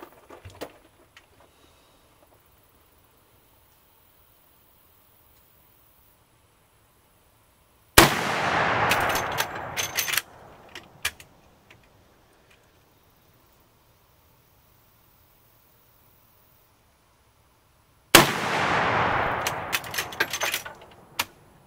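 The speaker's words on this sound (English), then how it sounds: "So let's send these three rounds down range real quick" 45 Colt rounds are fired downrange at a shooting range. Two loud, sharp reports come about ten seconds apart, each with a crackling tail, and quiet lies between them.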